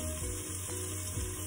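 Whole garlic searing in a pressure cooker, giving a steady close sizzle of hot fat throughout with faint stirring, no talk.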